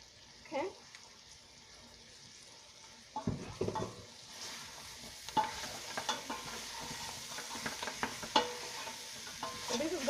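Lamb meat sears and sautés in a pot for pilau rice, with sizzling frying noise, clattering stirring and scraping bursts growing busier partway through, close and moderately loud.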